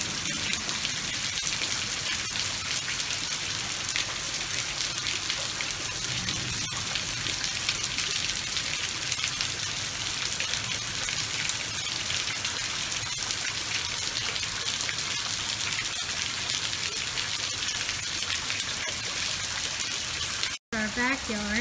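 Heavy rain pours steadily over a Texas backyard during a tornado warning, a dense, even hiss of drops hitting surfaces that continues without a break for the whole stretch.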